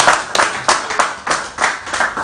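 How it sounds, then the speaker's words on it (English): A crowd at a political campaign gathering claps for a woman in short, loud bursts, with distinct rhythmic surges roughly every third of a second, close and energetic. "Can you guys clap for her?"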